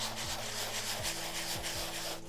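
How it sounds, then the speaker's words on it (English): Rhythmic back-and-forth rubbing of sandpaper over a primed canvas, several even strokes about half a second apart, close and steady with no talking. "So now that I'm done sanding my canvas"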